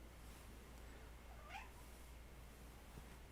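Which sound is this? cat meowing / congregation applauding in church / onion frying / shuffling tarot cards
cat meowing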